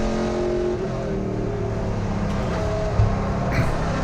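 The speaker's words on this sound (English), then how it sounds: "They're driving real fast, coming around a corner." Race cars in a Gridlife GLTC event at Mid-Ohio sweep fast through a corner, a steady loud engine drone with shifting pitch and a brief thump near the end.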